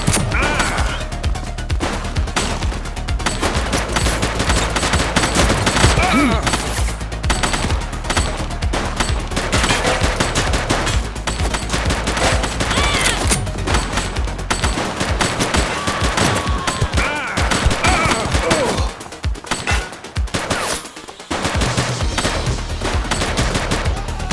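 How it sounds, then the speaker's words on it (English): Rapid gunfire crackles in The Precinct, a police video game, dense bursts of shots and automatic fire rattling almost continuously and loudly, with brief gaps near the end. "Shots fired!"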